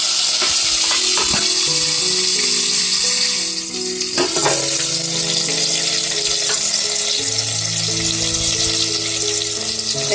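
Wild mushrooms (chitalya) sizzle and fry in hot oil with garlic in a pot over a wood-fired stove, a steady loud crackling hiss with occasional clinks of stirring.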